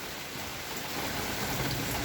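Heavy rain pours down in a steady, dense, unbroken hiss, with no talking, during a prolonged downpour that has brought flooding.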